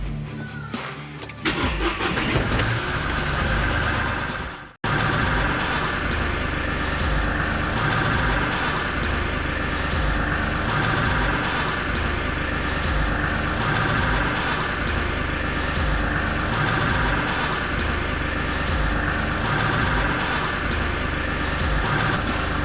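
A car engine cranks briefly, catches after a short pause, then settles into a loud, steady idle close by that runs on without a break.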